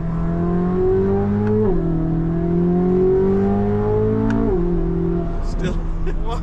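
A 2023 Chevrolet Corvette Z06 engine held at a steady high rev, a sustained droning tone that dips and climbs in smooth steps, loud and close throughout.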